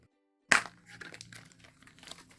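Crinkly plastic packaging of a Sylvanian Families blind bag tearing open with a sharp initial rip, followed by several softer rustles and crackles nearby, with no talk.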